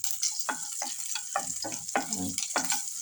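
Mustard seeds and small shallots fry in hot oil for churuli thoran, a steady crackling sizzle broken by stirring scrapes and soft pops at close range, with no voices.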